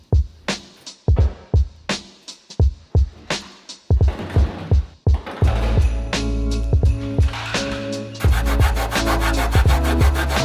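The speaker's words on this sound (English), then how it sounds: "This is a maroon Scotch-Brite or a maroon scuff pad, which will work perfect to get all of this undercoating scuffed." Maroon Scotch-Brite scuff pad rubbing over fresh car undercoating on a Honda NSX, repeated rhythmic scrubbing strokes up close, becoming denser and more continuous toward the end.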